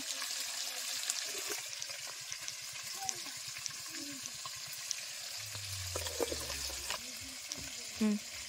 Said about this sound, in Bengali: আর এদিকে এখন মাছ ভাজা হচ্ছে।